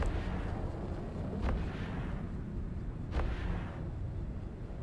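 Spaceship weapons in EVE Online fire at a target, heard as a steady rumbling bed of low booming with two sharper bursts standing out, loud and continuous throughout.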